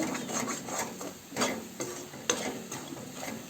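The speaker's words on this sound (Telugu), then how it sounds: "సాల్ట్ వేసేసి మళ్ళీ బాగా కలుపుకుంటున్నాను బాగా కలిపేయాలి" Quiet, rhythmic scraping of a spoon stirring garlic chili masala with egg in a pan, soft strokes over a low sizzle, close by with no voices.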